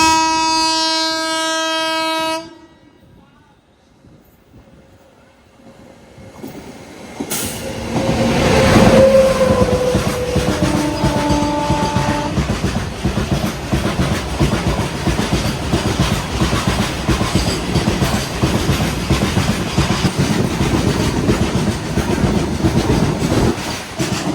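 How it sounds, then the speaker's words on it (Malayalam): A goods train rolls past on the loop track at Keezhvelur station, with a horn blast at the start, then a quiet gap before the loud, continuous rumble and clatter of wagons passing close by. "ഒരു ഗുഡ്സ് വരാൻ വേണ്ടിയാണ് ഇത്രയും നേരിട്ടത് കണ്ട് വരുന്ന ഗുഡ്സ്"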